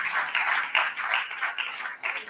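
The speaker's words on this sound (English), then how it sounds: "Another round of applause for him." An audience applauds a welcomed station head at a Nigerian agricultural event, its fairly faint clapping swelling and easing in regular pulses, with no voices.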